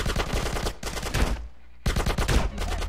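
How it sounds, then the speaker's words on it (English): Rapid automatic gunfire in GTA San Andreas, loud, dense bursts of shots in two long volleys separated by a brief lull, with no talk over them. "Give me some fucking covering fire!"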